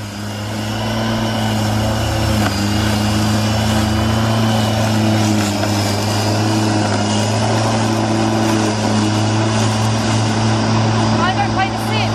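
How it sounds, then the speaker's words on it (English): A petrol lawnmower runs steadily and loudly close by, its engine drone constant throughout with no pauses. "it's just a rubbish lawnmower"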